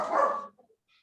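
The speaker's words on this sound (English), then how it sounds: "there's my dog." A dog gives a single short, loud bark close by, then a couple of faint trailing yips in otherwise quiet surroundings.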